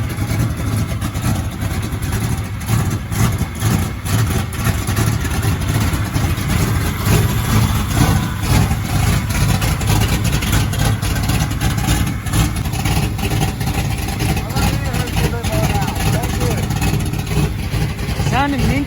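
A 1977 Ford F150 truck engine with an upgraded steering setup idles steadily at close range, a continuous low rumble with a busy, even texture throughout, while people talk over it.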